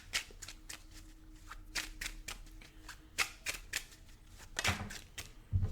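Tarot cards being shuffled by hand, a run of quick papery riffles and flicks in irregular bursts, close and clear, with no talking.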